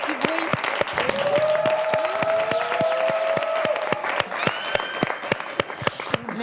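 Sustained audience applause during the final deliberation of the Animateur 3.0 contest, dense sharp claps under a loud voice speaking over them and a brief musical flourish.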